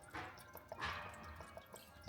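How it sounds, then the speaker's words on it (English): Engine coolant from a 1.5 dCi engine drips into a receptacle during a water pump and timing belt job, a few faint, scattered drops falling close by in a quiet workshop. "let all that coolant drip into your little receptacle"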